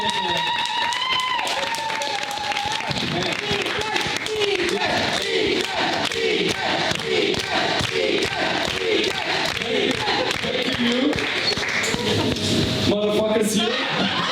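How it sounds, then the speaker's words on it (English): A crowd at a stand-up comedy show in Luxembourg cheers, whoops and claps loudly and continuously, with many overlapping shouting voices close by. "So, applause for you."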